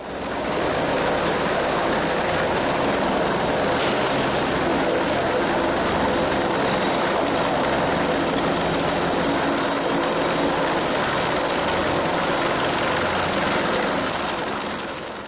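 A military helicopter flies overhead during an anti-terror drill, its rotor and engine roar steady, loud and continuous throughout, with no break.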